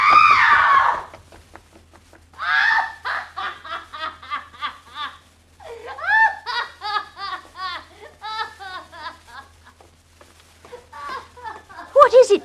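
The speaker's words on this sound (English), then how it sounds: "She screamed." A woman screams in a radio drama about Jack the Ripper, a sharp shriek at the start followed by excited, laughing voices and later shorter cries.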